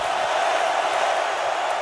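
A football stadium crowd roars during a Chargers vs Raiders game, a dense, steady wall of cheering that holds at an even level throughout.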